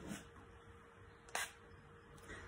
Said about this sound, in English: The trigger is easy to hold when your hands are super slippery and wet, and it makes a fine mist.